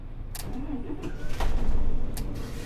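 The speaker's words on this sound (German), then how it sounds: "Okay, Motor machen wir an." A city bus engine starts up in the OMSI 2 bus simulator game: a few clicks come first, then a low rumbling crank swells into a steady idle, close and fairly loud.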